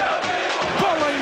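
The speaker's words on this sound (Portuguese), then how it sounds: "Grito da torcida do Corinthians" Corinthians supporters roar and chant inside Pacaembu stadium during a Libertadores match, a dense, sustained crowd sound with voices swelling together.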